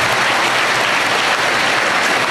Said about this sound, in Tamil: கைத்தட்டணும் நீங்கள் நல்லா.